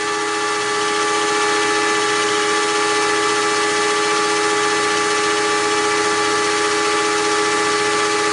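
A metal shaper machine cuts metal dry, with no lubricant or coolant. It gives a steady mechanical whir and hum at a moderate, even level throughout, with no talking.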